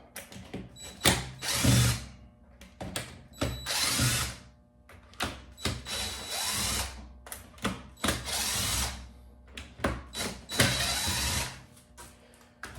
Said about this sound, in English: first I want to take these screws out here